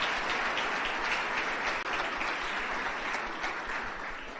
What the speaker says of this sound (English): can we give our students a round of applause just one more time?